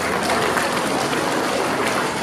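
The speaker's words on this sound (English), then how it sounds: "Please a round of applause for them" An award ceremony crowd gives a round of applause for Pinnacle Award recipients, thick continuous clapping filling the room at close range without letup.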